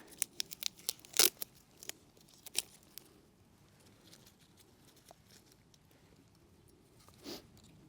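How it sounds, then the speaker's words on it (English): A plastic air-layer ball is pulled off bonsai roots, giving quiet crackling snaps and tearing clicks, clustered early and then thinning out into faint scattered rustles. "the plastic ball is coming off nicely"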